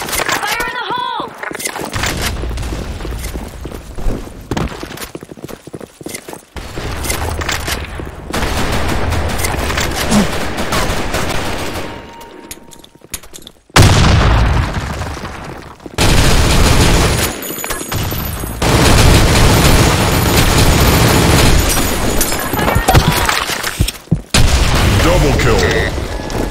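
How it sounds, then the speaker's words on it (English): Grenade blasts and rapid gunfire in a multiplayer shooter match, loud bursts of automatic fire and heavy booms coming in clusters separated by brief quieter gaps, with game announcer voices in places. "Grenade! Fire in the hole!"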